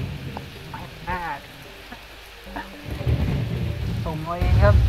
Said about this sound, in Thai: ฝนตกฟ้าร้องด่านมืดๆเลย